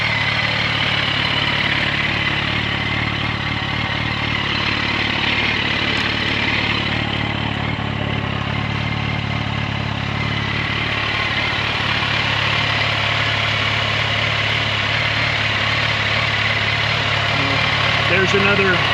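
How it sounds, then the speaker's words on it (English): A Yamaha FZ1 liquid-cooled motorcycle idles with its cooling fans running, a steady close-up engine hum and whooshing fan noise that holds evenly throughout. "Right now the cooling fans just turned on"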